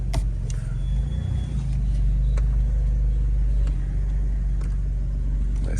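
A car with a faulty transmission drives along, its low engine rumble steady and close throughout, with a few faint knocks and clicks over the drone.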